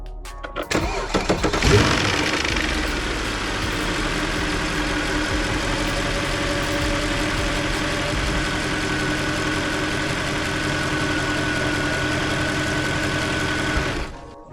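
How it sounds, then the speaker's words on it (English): A Mercedes E63 AMG engine with cam rattle cranks and fires loudly, a short rattling burst at startup, then settles into a steady, close idle for the rest of the clip with no talking. "That what you just heard, ladies and gentlemen, is called a cam rattle."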